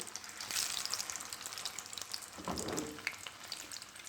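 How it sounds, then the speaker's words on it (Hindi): Shami kebabs without an egg coating fry in lightly heated oil, giving a soft, low-level sizzle that runs continuously, with a brief swell of bubbling partway through. "अब मैं जो दूसरे कबाब हैं वो बिना अंडा में कोट किए ऐसे ही फ्राई करूँगी"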